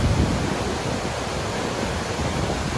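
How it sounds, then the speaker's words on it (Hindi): A waterfall fed by glacier meltwater in Kumrat Valley, Pakistan, gives a steady, loud, broadband rushing roar with no breaks, close and dominant. "ये देखें वाटरफॉल"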